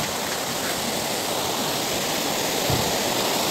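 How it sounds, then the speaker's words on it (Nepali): A jungle stream swollen after recent rain, rushing loudly and steadily nearby as a dense, unbroken wash of flowing water. "खोलामा पनि पानी अलिक बढेको छ।"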